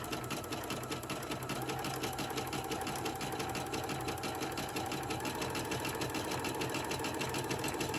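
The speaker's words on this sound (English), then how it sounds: "I'm going to keep sewing all the way around." A sewing machine runs continuously for several seconds, stitching fabric for a stuffed gingerbread craft with a rapid, even mechanical rhythm, close and steady with no pauses or voices.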